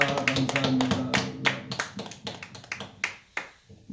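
A church congregation claps together during a New Year's Eve watch-night service, with dense overlapping hand claps in an uneven rhythm that swell and then thin out into scattered individual claps, with no one speaking over them.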